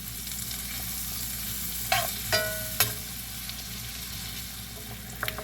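Onions with low-sodium garlic seasoning fry in a pan, a steady near sizzle broken by a few sharp clinks and scrapes of a utensil, with no one talking.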